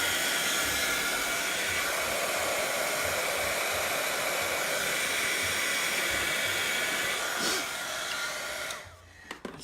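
A heat tool blows a steady, loud airy roar while drying paint on a cigar box, holding constant for several seconds before cutting off, followed by a few small clicks.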